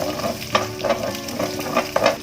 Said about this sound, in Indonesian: Saya akan menumis lagi bumbu yang tadi.